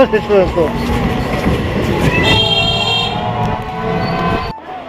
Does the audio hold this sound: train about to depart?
yes